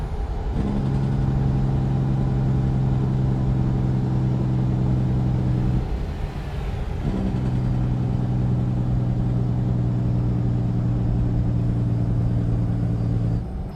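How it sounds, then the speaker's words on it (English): A steady, loud engine drone with a strong low tonal hum, briefly interrupted midway before resuming; a straight-piped CAT 3406E truck engine Jake braking in a video game. "Now that is a very good Jake brake if you ask me."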